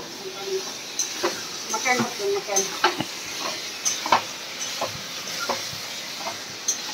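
Food sizzling and frying in a pan, with intermittent clinks and stirring scrapes, close by, as someone talks over it.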